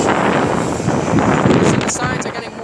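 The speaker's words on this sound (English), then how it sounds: "It is really windy outside." Strong winter wind in New York City buffets the microphone in a constant roaring rush, loud and unbroken throughout.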